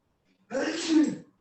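A single sneeze bursts out during an online seminar call, sharp and fairly close, rising quickly and tapering off over about a second with no talk around it.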